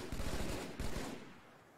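Rapid automatic gunfire from the Halo video game, dense overlapping bursts close and loud for about a second, then trailing off into quieter scattered shots.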